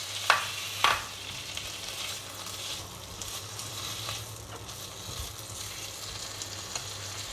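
Prawns and kailan stems stir-frying in a hot wok, a steady crackling sizzle with a couple of sharp clanks at the start and occasional soft scrapes of stirring.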